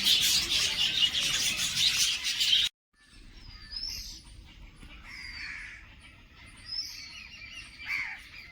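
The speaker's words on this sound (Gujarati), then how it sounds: "આ બધા છે તુયા પોપટ, એ જે નાના નાના હોય છે તુયા પોપટ કહેવામાં આવે આને" Small tuya parrots calling in an aviary at Gandhinagar zoo, a burst of dense shrill chatter followed by scattered sharp chirps and squawks from several birds at moderate distance.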